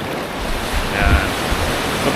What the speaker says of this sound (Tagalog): parang breaker kung saan nagtatagpo yung mababaw tsaka yung parte na malalim